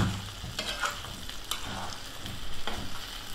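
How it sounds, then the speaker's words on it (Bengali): Garlic cloves fry gently in oil for a mango and garlic pickle, a soft steady sizzle broken by a few brief scrapes of stirring, close and fairly quiet with no talking. "এই রসুনটা কিছুক্ষণ একটু ভেজে নিব, বেশি না, হালকা।"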